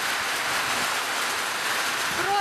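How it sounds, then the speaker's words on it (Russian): Heavy rain pours down outdoors over a campsite dinner table, a dense, loud, even hiss of downpour filling the whole moment without a break. "Дождь пошел, капец какой сильный!"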